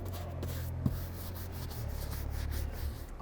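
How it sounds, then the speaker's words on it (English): A brush scrubs back and forth across a colored leather car seat, giving a steady close rubbing and scratching texture with one sharp tap and no talk. "So just scrub it back and forth."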